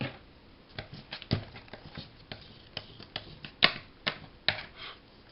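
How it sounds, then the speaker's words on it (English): Scissors cutting out glued, backed paper for a handmade ephemera craft, heard as a series of short crisp snips and clicks at an uneven pace, close and fairly quiet with no talking. "Because now we're going to cut it out."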